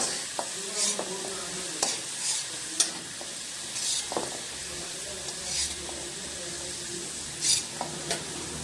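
Potatoes frying in a pan for a Bengali fish-head muri ghonto, a steady close sizzle broken by repeated scraping stir strokes and utensil knocks, no voices.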